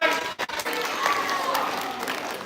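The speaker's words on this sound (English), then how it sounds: "Big round of applause for Sky!" A large high school crowd claps and cheers for a student. The applause is dense and sustained with some voices mixed in, and it stays loud throughout.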